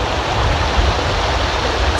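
A mountain stream rushes through a canyon in a national park, a loud, dense, unbroken roar of flowing water close by with no voices or other sounds.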